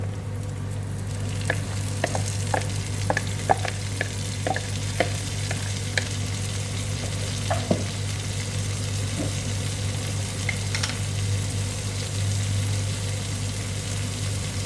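Sliced green raw papaya sautés in a pan, giving a steady sizzle under a low constant hum, with scattered stirring clinks and scrapes of a utensil against the pan.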